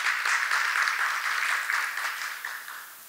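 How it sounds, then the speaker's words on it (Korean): An audience at an international martial arts academic seminar gives a short round of steady applause, a dense wash of clapping that gradually fades. "큰 박수로 환영해 주시면 감사드리겠습니다"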